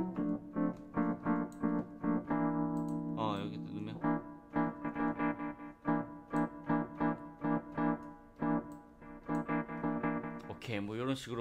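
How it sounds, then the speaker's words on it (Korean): Arturia MicroLab keyboard playing a preset through a delay effect, sustained chords with echoing repeats, a sweeping filtered passage midway and a pitch-bending swoop near the end, loud and close with no talking. "딜레이."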